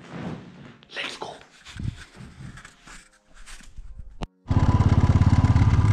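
Clatter and footsteps precede a motorcycle engine that starts and runs with a loud, close, rapid pulsing throb on a foggy early morning.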